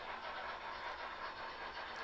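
Model train running on a home layout, a faint steady rolling clatter of wheels on track with no voices.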